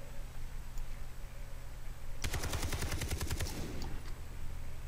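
A rapid burst of video game gunfire, roughly a dozen sharp shots fired from a single weapon over about a second and a half, loud against a steady low background hum with no talking.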